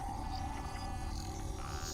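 Whale vocalization from the underwater game Subnautica: Below Zero, a brief low sustained tone over a rumbling deep-water ambience, faint and alone.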